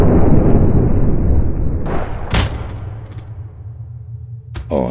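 Fireworks explode in the People Playground game: a loud rumbling blast fades out, then a few sharp bangs and crackles follow, with another pop right at the end.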